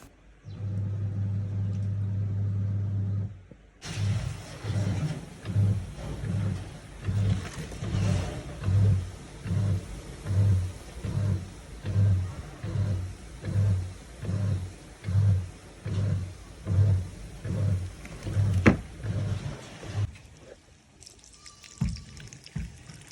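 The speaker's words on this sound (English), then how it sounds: "Let's listen to the sound of the machine when you want to spin." A fully automatic washing machine spinning with no tap water connected: a steady loud mechanical drone that swells and fades in a regular pulsing cycle about once a second, up close, with no talk.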